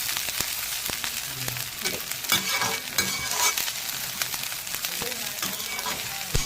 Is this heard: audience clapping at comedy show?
no